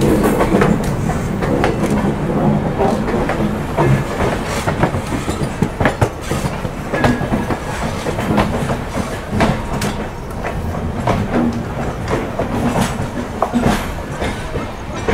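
A Howrah–NJP puja special train running alongside the Howrah–Chennai special, heard from on board as a loud, steady rumble with a continuous rhythmic clickety-clack of wheels over rail joints.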